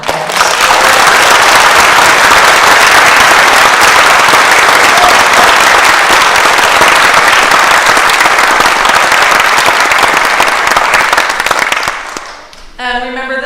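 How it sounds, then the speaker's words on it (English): Concert audience applauding a student wind band: loud, dense, sustained clapping from a large crowd, fading out near the end as a voice begins speaking. "so please give them a round of applause."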